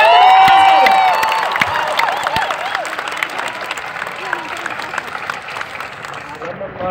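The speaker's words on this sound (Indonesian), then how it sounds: "Kita berikan tepuk tangan sekali." Dense audience applause fills an outdoor concert at Monas, Jakarta, loud at first and gradually thinning, with a voice speaking over the start.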